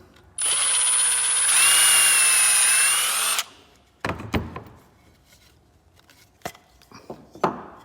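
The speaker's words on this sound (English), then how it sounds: "We're gonna drill the hole" A loud, steady power drill whirs for about three seconds, its pitch shifting partway through, followed by scattered knocks and clatter.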